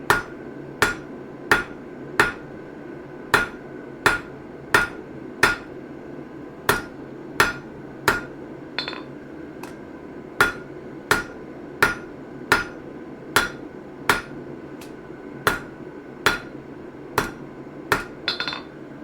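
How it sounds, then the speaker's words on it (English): Hammer striking metal while forging a punch and chisel set, sharp ringing blows landing one by one at a steady, evenly spaced rhythm, close and clear with a faint hum in between. "now I'm switching over to the flat hammer"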